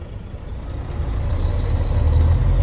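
Heavy trucks and trailers idling in a queue at a dump scale, a deep low engine rumble that grows louder and closer, no voices.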